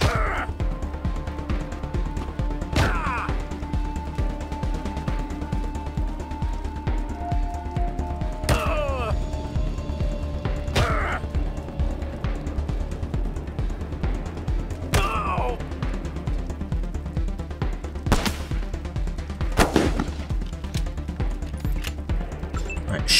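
Gunfire in the game Wasteland 3: several sharp, sudden shots spaced irregularly across the stretch, each cutting through a steady bed of game music and ambience.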